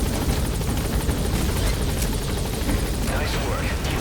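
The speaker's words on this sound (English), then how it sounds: "All right, the chopper's touching down." A helicopter touches down in Metal Gear Solid 5: The Phantom Pain, its rotor roaring as a loud, steady, dense wash throughout the whole stretch.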